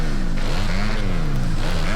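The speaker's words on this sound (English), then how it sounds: "the engine noises are a lot better" Motorbike engine in MX vs ATV Legends during a 250 supercross race, a loud, continuous buzzing drone whose pitch rises and falls as the throttle is worked.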